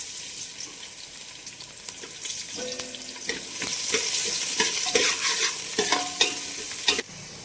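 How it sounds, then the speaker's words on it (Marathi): Chopped onion fries in hot oil in a pan for a mutton dish, a close, steady sizzle growing louder as a utensil stirs and scrapes in irregular strokes, with no speech. "आता याच्यामध्ये कांदा घालायचा. चांगला भाजून घ्यायचा कांदा."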